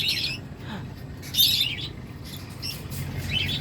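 African lovebirds and an umbrella cockatoo call in short, bright chirps and squawks at scattered intervals, fairly faint over a low background hum.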